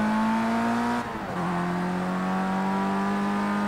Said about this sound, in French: la voiture qui glisse